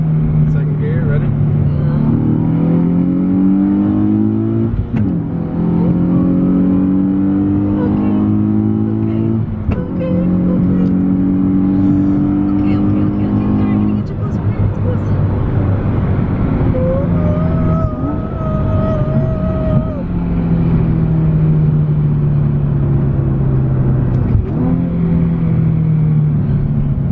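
Nissan 370Z Nismo with no exhaust, its engine revving up through the gears in repeated rising sweeps, with blips as it rev matches on shifts; loud and close, with a voice talking over it.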